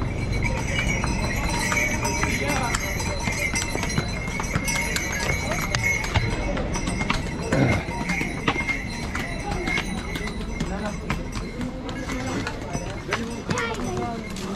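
Horse hooves clip-clop steadily along the Gaurikund to Kedarnath pilgrimage trail amid outdoor bustle, with people chatting and calling out over the rhythmic clatter.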